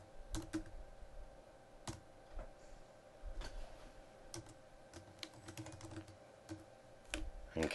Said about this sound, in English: I just keep typing.